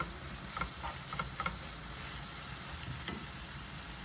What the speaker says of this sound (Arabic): بعد ما دبل البصل ديالي نجيب الفيونداشي ديالي وندخلها مليح مع البصل حتى الفيونداشي نتاعي تقلى مع البصل ديالي